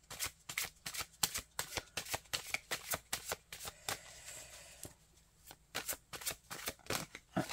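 Tarot cards being shuffled by hand, a long run of quick, crisp riffling flicks in steady rhythm, close and fairly loud, with a brief pause before the shuffling resumes; no talking.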